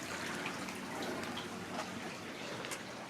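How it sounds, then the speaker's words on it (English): A small brook flowing beneath a covered bridge on a farm orchard walk, a steady soft gurgling rush of water, faint and continuous with no talking. "Here's the covered bridge going over this little brook and stream."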